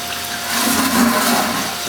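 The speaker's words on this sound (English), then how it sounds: "I'm gonna start dumping this into the sink now." Liquid from a home stout brewing session poured into a sink: a short, steady rushing gush of water that swells slightly, heard close up with no talking.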